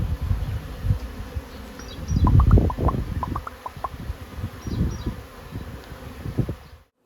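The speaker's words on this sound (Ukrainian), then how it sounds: "Тут теплі вулики стоять на припічку і вони більш активно літають." Honeybees flying around warm hives set out at an apiary in early March, a steady close buzzing swarm with individual bees droning past the listener, louder in bursts, no speech.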